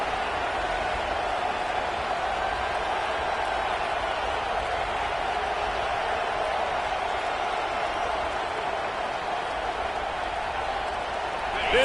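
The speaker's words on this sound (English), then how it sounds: "This dog crowd is off the leash, and they are coming after them, bringing noise on third down" Broad, steady roar of a stadium crowd on third down in a College Football 26 game featuring Clemson, a continuous wash of distant noise under commentary.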